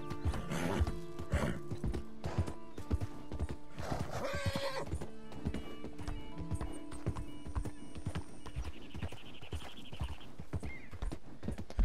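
A horse in the Red Dead Redemption video game neighs loudly near the start and again around four seconds, while hooves clop in a steady rhythm beneath, with faint ambient game tones later.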